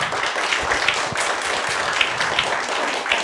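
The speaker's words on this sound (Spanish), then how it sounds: "¿Quién le da un aplauso al Señor?" A church congregation applauds the Lord, a steady dense wash of clapping that holds at an even level throughout with a few sharper individual claps standing out.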